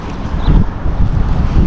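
Strong wind at sea buffets a fisherman line-fishing from a small boat heading into it, a continuous close, rumbling gusty roar with no talk.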